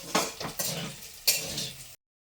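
Garlic and dried chilli bean paste stirred in a pan, with a utensil scraping and clinking in a few quick close strokes over faint sizzling before the sound cuts to silence.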